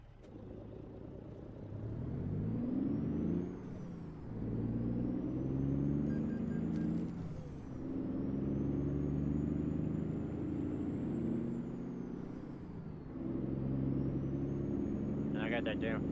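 Heavy truck engine in American Truck Simulator, fitted with a 5,000-horsepower engine, droning loud and steady through repeated gear shifts, its pitch climbing then dropping, with a brief air-brake hiss near the end.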